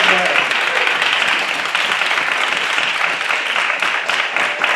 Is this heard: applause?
yes